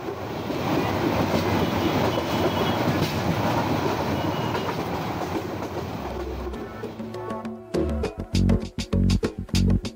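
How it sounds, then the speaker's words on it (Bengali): Train ride from Airport to Kamalapur in Dhaka: continuous loud rumble of wheels and carriages from inside, ending in a series of sharp rhythmic clickety-clack beats over rail joints. "আমি এখন ট্রেনে করে যাচ্ছি কমলাপুরের দিকে"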